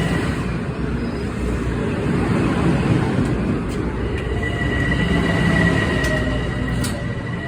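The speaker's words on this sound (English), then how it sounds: "Here's the train to North White Plains." A Metro-North train rumbles steadily into Crestwood station bound for North White Plains, a loud continuous low roar of wheels and cars close by, with faint high squeals and metallic glints near the end.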